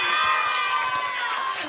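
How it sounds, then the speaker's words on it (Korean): Children and other audience members at a youth centre event clap and cheer together. The dense, continuous crowd noise sounds bright and lively, close and sustained, with excited voices mixed into the clapping. "소리가 들을 수 있도록 여러분 박수 한번 쳐볼까요?"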